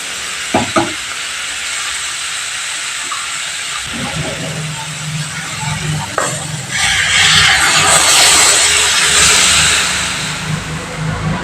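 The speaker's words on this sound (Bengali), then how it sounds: "এবার আমি এর মধ্যে কিছুটা পরিমাণ জল এড করে দেবো" Water goes into a pan of fried spice paste for a broccoli vegetable curry: a few faint clinks, then a loud burst of hissing sizzle and steam that swells midway and slowly settles.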